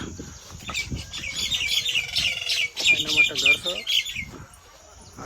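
House sparrows chirp busily and repeatedly at close range, a bright twittering chorus with a few louder calls and soft rustling beneath.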